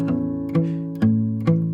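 An acoustic guitar in a thumb-independence exercise gives four evenly spaced percussive thumb chucks, each followed by sustained plucked chord tones. The notes ring clearly and close with no voice.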